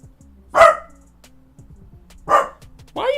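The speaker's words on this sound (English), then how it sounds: "Why are you barking?" Dog barking in a fantasy TV drama scene: two separate sharp barks a couple of seconds apart, near and fairly loud, with quiet background between them.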